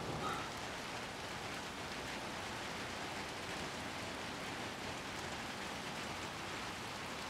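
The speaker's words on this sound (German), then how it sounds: "Die landen draußen im prasselnden Regen." Steady, even rain patters outdoors in the game Little Nightmares 2, a dense continuous hiss of drops on surfaces that holds at moderate level throughout with no voices.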